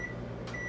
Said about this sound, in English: I'm going to take it out of the microwave